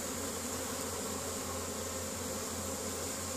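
Honey bees foraging in spring near Caribou, Nova Scotia, some carrying orange pollen, make a continuous close buzzing hum, steady and fairly faint, with no voices.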